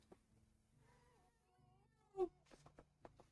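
A pet cat named Mr. Kitty meows several times in short, close bursts inside a room, following a stretch of quiet low hum.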